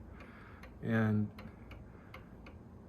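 A 1930s Sessions mantel clock, made in Forestville, Connecticut, ticks in a steady, even rhythm, close and crisp, while someone briefly speaks over the ticking.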